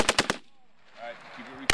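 M777 howitzer artillery firing: a few sharp, loud blasts at the start followed by a long rumbling tail and another sharp bang at the end, with faint crew voices in between.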